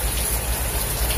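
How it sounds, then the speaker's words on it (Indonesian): Steady rain falling outside an abandoned tax office building, a loud, continuous hiss of drops with no breaks across the short stretch. "Hujan ya, di luar hujan."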